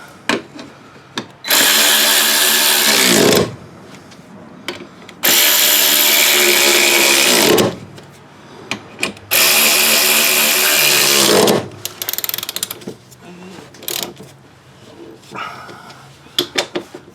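A power tool tightening parts back up on a rainy-day repair job: three long, loud whirring bursts of about two seconds each, with short knocks, clatter and what sound like a dog's barks in the gaps.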